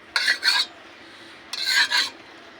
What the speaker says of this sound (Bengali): আমি একটু তেলটা সাজিয়ে নেব, খন্তিটা দিয়ে নিচ্ছি, প্রচুর গরম হয়ে গেছে